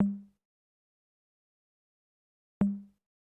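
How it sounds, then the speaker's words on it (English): Two short, dry percussion sample hits from an ambient R&B beat made in FL Studio, spaced a few seconds apart, each a tight thump with a quick decay against silence. "Then I added this perc that sounds like this"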